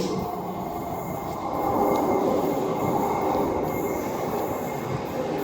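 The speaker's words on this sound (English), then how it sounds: "Guys, our train is here." A train arrives at a station platform, giving a loud, steady rumble with a metallic wheel squeal and a faint rhythmic clatter, close by and with no talk.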